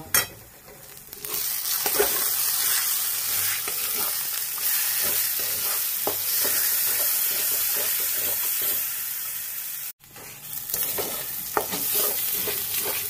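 Masala frying in a pan as red chilli powder and turmeric are stirred in, a continuous sizzle under repeated scraping spoon strokes, with a brief cut near the end.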